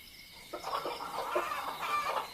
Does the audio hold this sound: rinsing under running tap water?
no